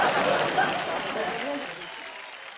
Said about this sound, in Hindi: सचिन के लिए जोरदार तालियां हो जाए।